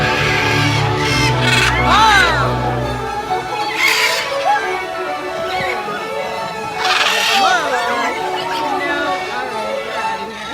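Blue-throated macaws call overhead in a series of loud, harsh, rising squawks and screeches, repeated at irregular intervals, with a low rumble underneath early on.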